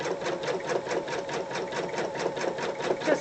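An embroidery machine runs a basting stitch on tear-away stabilizer, a steady mechanical whirring with a quick, even rhythmic chatter of needle strokes, moderately close and alone without voices.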